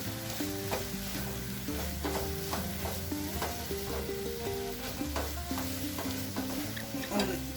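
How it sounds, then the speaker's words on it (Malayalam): Spice powders stirred and sautéed in a pan for a prawns and egg curry make a continuous close sizzle, with repeated scraping strokes of a spoon against the pan. "ഒന്ന് ചൂടായി അതിൻ്റെ പച്ചമണം പോകുന്നവരെ പൊടികളൊന്ന് വഴറ്റാം"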